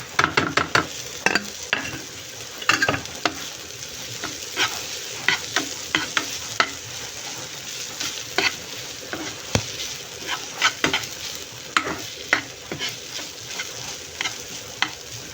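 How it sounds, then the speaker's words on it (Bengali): Snake gourd frying with grated coconut in a pan, stirred steadily with a spatula: repeated scraping strokes over a continuous close sizzle, no voices. "এই তো আমি এরকম 5-10 মিনিটের মতো একটু ভালো করে নাড়াচাড়া দিয়ে নেব"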